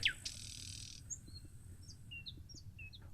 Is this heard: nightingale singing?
yes